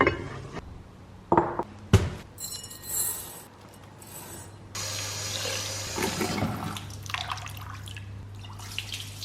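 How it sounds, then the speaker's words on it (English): Hot water pours into a cooking pot for an Afghan meat dish, a steady close splashing stream lasting several seconds after a few clanks of the pot, with no talking. "We will add hot water."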